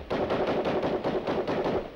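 A string of firecrackers bursts in a rapid, evenly spaced crackle of loud, close pops for two seconds with no talk.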